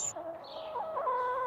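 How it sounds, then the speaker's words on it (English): Capon, a castrated rooster, clucking and giving a short crowing call, a close, fairly loud bird voice with rising and falling tones and no speech. "he came across some birds called capons."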